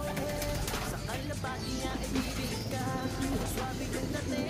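Racing pigeons arriving at a loft in Tarlac coo and call repeatedly over a busy background of engine hum and distant voices.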